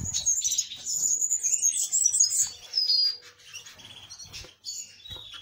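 Songbirds, siskins and serins, chirp and twitter in a continuous, busy chorus of high, rapid trills and tweets, close and fairly loud, with no talking.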